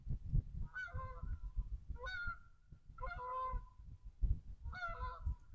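A flock of geese flying over a coastal area, honking in repeated bursts of several calls each, fairly close and loud against a low rumble of wind or handling noise.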